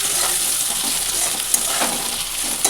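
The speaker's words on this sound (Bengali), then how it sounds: "এবারে আমি দিয়ে দেবো ধনে গুঁড়ো, তারপরে দেবো জিরে গুঁড়ো, হলুদ দিয়ে দেবো। এবার ভালো করে একটু মিশিয়ে নিই।" Ground coriander, cumin, turmeric and tomatoes are stirred and fried in a pan, producing a continuous close hiss of sizzling oil with soft stirring scrapes and a couple of light utensil taps.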